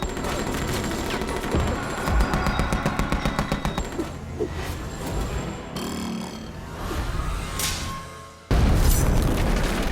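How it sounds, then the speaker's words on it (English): A movie fight scene erupts in rapid bursts of close gunfire and booming shots over a dense, loud soundtrack, with brief pauses between volleys. "After several intense minutes, Joe disarms Botas, who grabs a gun and fires."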